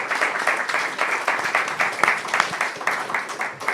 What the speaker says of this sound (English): can you please give our 5 candidates a big round of applause?